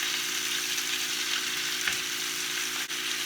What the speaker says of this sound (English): That chicken is really looking good now. It's getting browned on all sides.